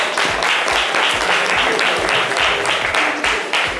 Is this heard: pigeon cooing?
no